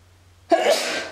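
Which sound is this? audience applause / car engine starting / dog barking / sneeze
sneeze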